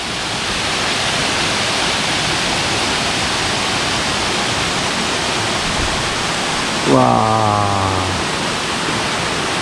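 At Kakkadampoyil waterfall, water pours over tiers of rock in a loud, steady, close rushing roar that lasts throughout, with a brief voice heard near the end.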